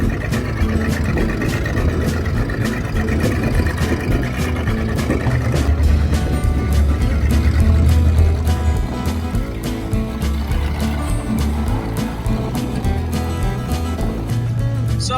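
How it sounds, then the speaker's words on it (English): A 1972 Ford Gran Torino, fitted with old Crown Victoria wheels and suffering a transmission issue, rumbles steadily as it drives off, its engine a low continuous drone with no talk. "we finally got that old Torino to drive"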